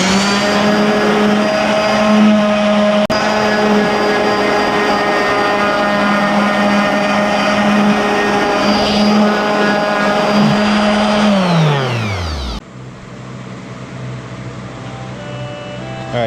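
A DeWalt grinder whines steadily and loudly while sanding mill scale off a steel coaster, holding one pitch for about twelve seconds before spinning down.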